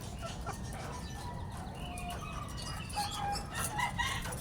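A Boston cross sweater stag rooster crows and clucks on a farm, faint and somewhat distant, with brief calls over a steady low background rumble.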